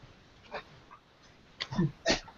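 An 8-month-old puppy gives a few soft, faint whimpers and snuffles, scattered in short bursts close by.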